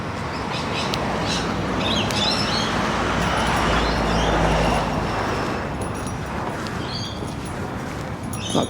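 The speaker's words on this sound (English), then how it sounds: "More lorikeets chirping away" Lorikeets chirp high overhead at sunset in Sydney, a dense run of short, sharp calls over a steady wash of outdoor background noise, with no one speaking.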